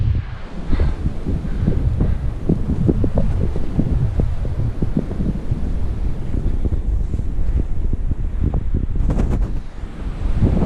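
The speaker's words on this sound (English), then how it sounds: "as soon as I get up here, the wind's gonna pick back up again" Wind blowing across a mountain top on the North Fork Mountain Trail in West Virginia, strong gusts buffeting the microphone as a steady, heavy low rumble that runs throughout.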